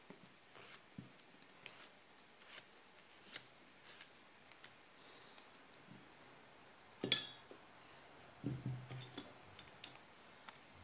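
Scissors snip through a fresh acrylic nail tip at its free edge, giving small scattered clicks and then one sharper cut followed by a brief low knock, all fairly quiet and close up with no talking.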